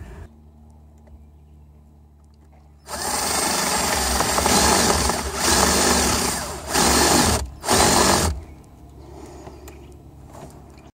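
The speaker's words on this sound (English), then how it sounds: "Drilled my hole through" A power drill whines loudly, boring a hole through wood for a sailboat tiller clutch in several bursts, pausing briefly between them, then stops, leaving quiet background.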